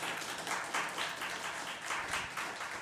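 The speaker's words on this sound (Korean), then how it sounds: "그래도 박수 한번 크게 해드립시다" A church congregation applauding during a Sunday worship service, a soft, steady patter of many hands clapping at a distance, fairly faint, with no talking.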